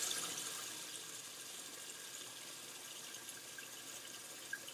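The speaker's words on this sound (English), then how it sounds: "Sorry about the running water, I know." Tap water running steadily into a bathroom sink as it fills, a constant soft hiss with no talking.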